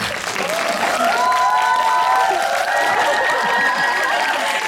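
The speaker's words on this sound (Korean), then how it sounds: "장한 감독님께 박수 한번 치고" An audience at a cinema Q&A event applauds a film director, steady clapping throughout, layered with high cheering voices and whistle-like calls rising above the crowd.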